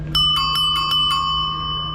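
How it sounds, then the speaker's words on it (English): A bell on a 1973–1975 John Deere bicycle rings rapidly about five times, bright and close, then its metallic tone lingers and slowly fades. "This is a good sounding bell."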